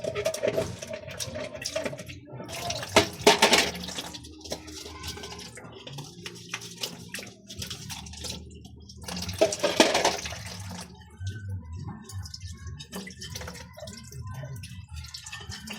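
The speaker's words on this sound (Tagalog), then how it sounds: "Hugasan na to aron pag-abot nila limpyo na mga kadagat." Running water splashes steadily over seafood being washed, with on-and-off bursts of louder gushing and dripping, fairly quiet and close, with no talking.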